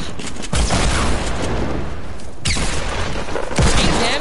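Dense, continuous gunfire in a multiplayer shooter game, rapid bursts and booming shots piling into a loud barrage with sharper blasts near the middle and end.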